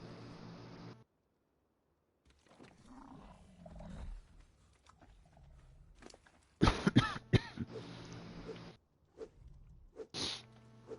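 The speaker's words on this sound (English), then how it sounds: "Don't worry about the coughing." A person coughs hard several times in a harsh, rasping burst, loud and close, with quieter throat noises before and after.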